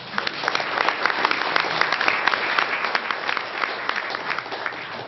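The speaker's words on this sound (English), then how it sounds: "Let's give them another round of applause." A round of applause fills a school-district joint council meeting, steady dense clapping from a seated crowd sustained without a break, moderately loud and close, with no talk over it.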